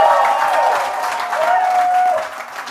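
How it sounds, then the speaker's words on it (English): Studio audience at a live talk-show taping gives a big round of applause, a dense, steady wash of clapping with some tonal cheering mixed in, holding loud for most of the stretch before easing slightly at the end. "Big round of applause"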